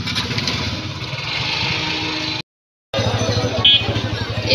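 A toto electric rickshaw carries passengers toward Mayapur ghat, giving a steady close rumble and rattle of the moving ride. The sound cuts out briefly near the middle, then the rumble returns.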